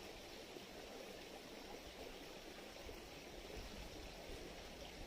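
Flowing stream water, a steady broadband rushing and gurgling wash that stays constant throughout, heard alone with no voices.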